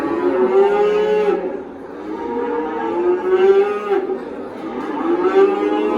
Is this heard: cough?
no